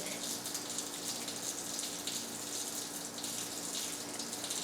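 A tap runs steadily under hands being rinsed of soap lather, giving a close, even gush of water with no pauses.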